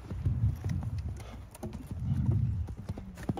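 A horse's hooves clip-clop in a steady rhythm during a riding lesson, with close, clear hoofbeats over faint arena background noise.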